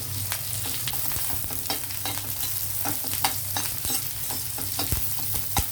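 Dry red chillies and curry leaves fry in sesame oil with cumin and mustard seeds, giving a steady, close sizzle broken by frequent sharp crackles and pops, with no one talking.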